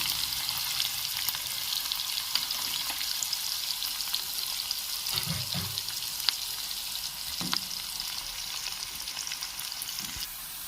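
Long-cut onions fry in hot oil for a flat bean masala gravy, giving a steady, bright sizzle with a few soft thumps from stirring.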